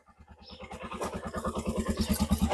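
A CNG auto-rickshaw's small engine putters and chugs with a fast, even rhythm, growing gradually louder and rougher as it revs, with some rattling clatter.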